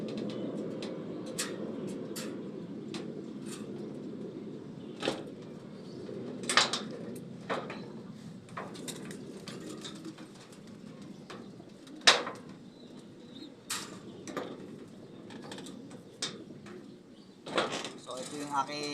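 Pigeons kept as flyers cooing softly in a loft, with low murmuring coos throughout and occasional sharp clacks and knocks nearby.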